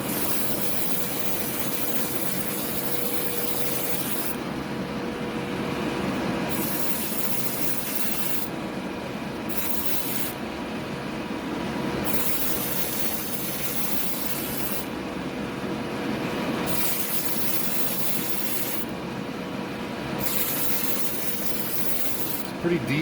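An airbrush sprays thinned, thick, deep blue paint onto a scratch-built pod racer model, giving a steady close hiss for the whole stretch that briefly softens and swells as the part is turned.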